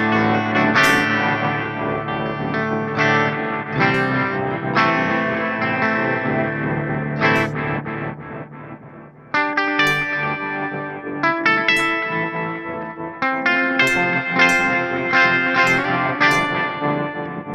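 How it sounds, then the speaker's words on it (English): Electric guitar run through a Walrus Audio Fable pedal set to analog-style delay feeding an octave-down granulator, played as sustained chords and notes with shimmering repeats and reverb tails, loud and continuous with no talking. "Analog style delay into an octave down granulator instead of an octave up."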